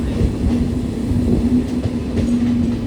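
The Garib Rath Express passenger train from Hyderabad to Bengaluru rolls steadily along, heard from inside with a constant low rumble, faint rhythmic clatter of wheels and a steady hum.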